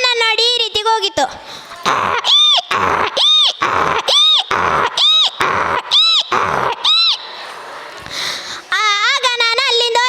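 At a school day performance, a child imitates a donkey's bray with a long run of regular, rising-and-falling hee-haw cries, loud and near, followed by a short stretch of speech.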